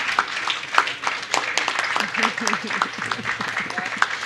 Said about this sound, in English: Let's give her a round of applause for those remarks.